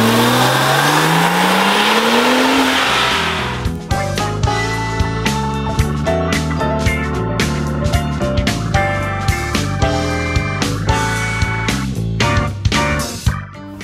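A Porsche 911 Turbo of the 997.1 generation pulls away with a loud, steadily rising engine note for about four seconds before music takes over.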